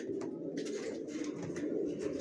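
Racer pigeon chicks coo in a low, continuous murmur with a few brief higher chirps on top, close and steady, with no voices.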